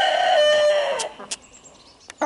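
A Silkie hen perched on a person's shoulder gives a drawn-out, tonal call lasting about a second, followed by a few quiet clicks and short pecking taps close by.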